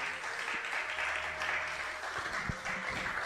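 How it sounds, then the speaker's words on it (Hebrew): Audience applause after a religious lesson, a steady close wash of many hands clapping for a few seconds with a couple of sharper claps standing out near the end. "מגיע לו כפיים על השיעור הזה"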